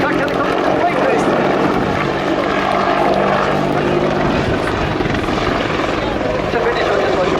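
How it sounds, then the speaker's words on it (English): An Apache attack helicopter roars steadily and loudly throughout a display flight at the Royal International Air Tattoo 2019, rotor thump and engine whine blended into a continuous, close, heavy drone. "your 2019 Attack Helicopter display team."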